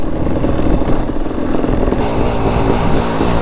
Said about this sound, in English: My bike sounds like it's overheating again